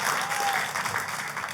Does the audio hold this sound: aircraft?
no